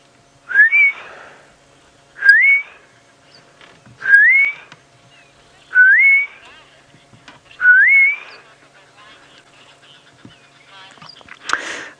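Plaintive whistles of a southern boubou carry from far off in a riverbed during a sunrise safari drive, five rising slurred notes evenly spaced about two seconds apart over quiet background.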